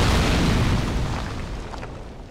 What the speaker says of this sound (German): Irgendwie habe ich heute kein Glück mit den Fässern und mit den Explosionen